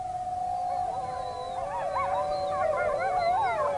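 A pack of wolves howling together: one long, steady howl is joined by several wavering, overlapping howls that rise and fall, loud and sustained.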